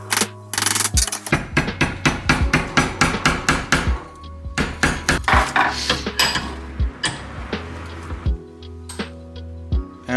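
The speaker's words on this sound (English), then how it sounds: "And then you just hammer it down a bit." A metal spoon is hammered into a ring shape, with a steady run of sharp, bright metallic strikes close by, some with ringing overtones, and short pauses between bursts.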